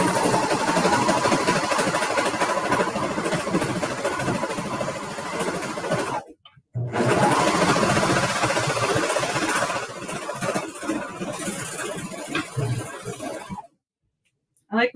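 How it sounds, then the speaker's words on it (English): A sewing machine stitches along a fabric edge of a holiday bottle gift bag, a loud, steady motor whir that runs continuously, stops briefly, resumes with some variation, then cuts out near the end. "we're just going to sew all the way down this edge, keeping our edges lined up."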